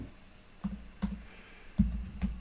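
A few sparse, unhurried keystrokes click on a computer keyboard, roughly four or five separate taps close by in a quiet room.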